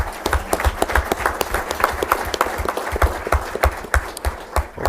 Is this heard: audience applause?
yes